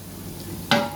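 Fish and salona ingredients hit hot oil in a pan in a home kitchen in Dubai, bursting into a sudden sizzling hiss near the end after a quiet, low background hum.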